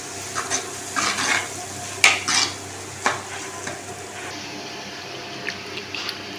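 Ingredients for a sankara fish kulambu, with salt added, are sautéed in a pan: a soft steady sizzle broken by several sharp scraping stirs of a spoon against the pan.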